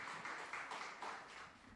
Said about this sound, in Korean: 앞으로 나오실 때 우리 박수로 환영하겠습니다